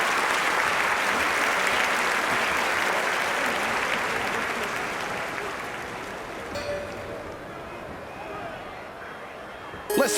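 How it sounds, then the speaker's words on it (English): A large stadium crowd cheers and applauds steadily in the London 2012 Olympics video game, a loud continuous roar that eases slightly toward the end as a voice speaks over it. "Plenty of crowd support here. They're all ready to get this event underway."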